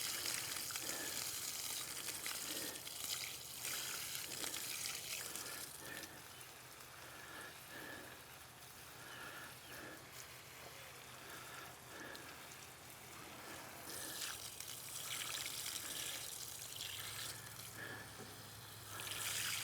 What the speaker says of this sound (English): Just wash it off. Wash down in the fronds there.